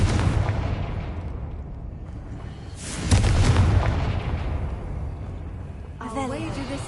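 In the game Hogwarts Legacy, a Confringo fire spell lands with a booming burst midway, followed by a rumbling fiery roar and softer crackle, with ambient game sounds around it.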